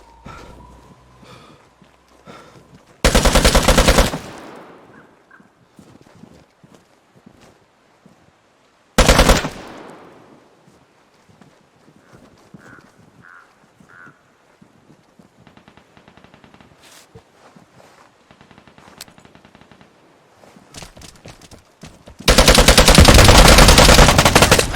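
Gunfire from an AUR Para SMG in the game Vigor, loud bursts at roughly 3, 9 and 22 seconds. Between them come quieter footsteps and game ambience.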